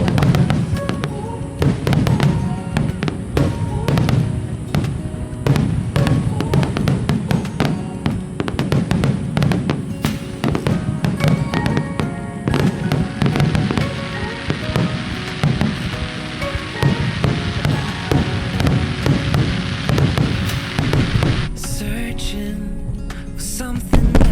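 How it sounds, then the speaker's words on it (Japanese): Nagaoka fireworks burst overhead in a dense, continuous barrage of booms and crackling shells, loud and close, with the volley thinning out near the end. "大きい花火が音も迫力あるしね"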